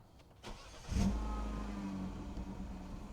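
A car engine cranks and catches after an oil change, then settles into a steady, close idle hum that keeps running.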